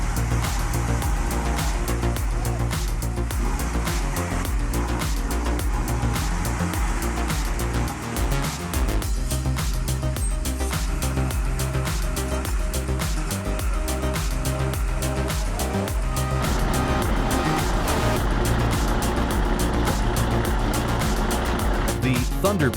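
A heavy timber transport truck grinds along a muddy road, a steady, loud engine drone that runs through the whole clip under continuous narration.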